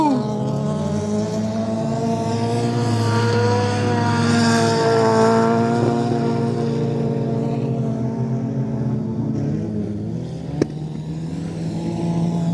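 Small race cars including a Honda Civic, a Volkswagen and a Dodge Neon running a six-lap heat, engines droning and shifting pitch as they pass at a distance, steady and without talk.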